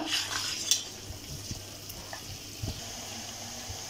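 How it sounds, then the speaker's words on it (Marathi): Masala for a spicy mutton rassa sautés in a pan, a soft frying hiss broken by occasional scraping stirs and light clinks against the metal, close by and moderately quiet. "हे सुद्धा आपण व्यवस्थित 5 मिनटं हा मसाला आपल्याला परतून घ्यायचा आहे"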